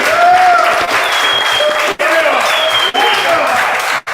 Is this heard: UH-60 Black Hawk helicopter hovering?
no